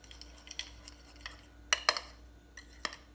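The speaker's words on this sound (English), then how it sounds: "Give that another stir" A spoon or whisk stirs waffle batter with a small pinch of baking powder in a bowl, giving a few quiet, scattered scrapes and clinks with two sharper knocks near the middle, no voices.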